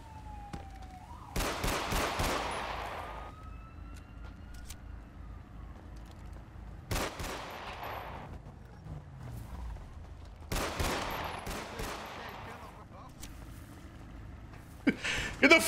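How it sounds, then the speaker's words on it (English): Gunfire in the video game GTA V role-play comes as several loud bursts of rapid shots separated by quieter stretches, with a faint siren-like tone in the background. "I hear a shot."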